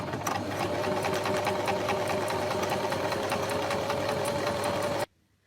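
Sewing machine stitching sequins onto fabric with a long straight stitch, a fast steady mechanical chatter running close and loud for five seconds before stopping abruptly.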